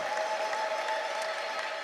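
Church congregation applauding with ululation during a prophetic service, a dense, steady wash of clapping and high trilling voices throughout, close and loud with no pause.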